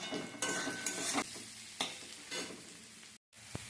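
Garlic sizzles in a pan with already fried onions, a bright crackling hiss punctuated by several stirring scrapes, with a brief dropout before it resumes.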